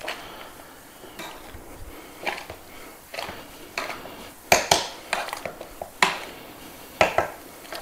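Cooked potatoes are forced through a metal potato ricer, giving a run of irregular clanks, taps and scrapes of metal against a bowl, close and fairly loud, with short quiet gaps between the knocks.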